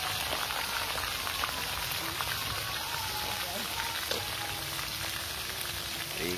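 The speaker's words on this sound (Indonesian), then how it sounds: "Goreng ikan belah-belah." Split fish frying in hot oil in a home kitchen, a steady dense sizzle and crackle running throughout without pause, with faint voices and kitchen sounds underneath.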